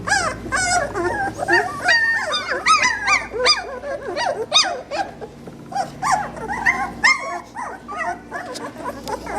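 Tiny two-week-old puppies whimper and yip in high, wavering cries, several overlapping close by, with occasional squeaky yelps and soft howls.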